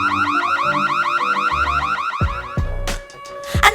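A loud electronic alarm cycles through a rapid warbling wail, then cuts out and gives way to a few clattering knocks and bumps.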